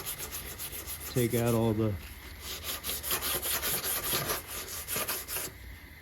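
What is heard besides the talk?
sanding bodywork with 150 grit sandpaper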